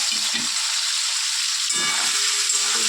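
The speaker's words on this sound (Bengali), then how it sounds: "পনিরগুলো আমরা ভেজে নিচ্ছি এই সব পনিরগুলো দিয়ে দিলাম" Paneer cubes frying in hot oil in a pan, a steady loud sizzle throughout with brief stirring scrapes near the start and again past the middle.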